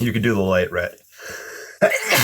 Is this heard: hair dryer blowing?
no